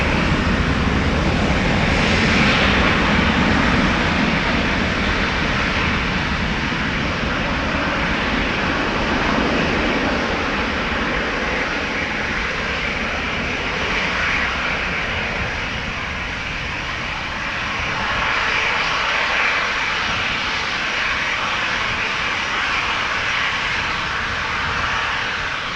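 Airliner engines at Amsterdam Schiphol Airport, including a KLM jet departing for Split and an Embraer E2 bound for Nice, give a steady, loud broadband roar that swells and eases over about 26 seconds, with no voices.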